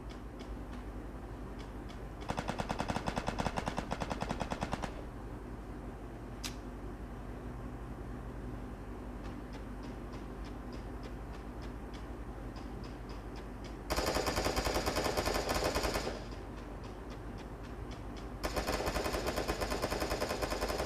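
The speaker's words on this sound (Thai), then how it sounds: "โอ้โหโอ้โหใครยิงวะเนี่ย" Machine gun fire in a mobile video game played on a Redmi 9 comes in rapid bursts at the start, middle and end, with a ticking mechanical pattern and a steady background hum between bursts and no talking.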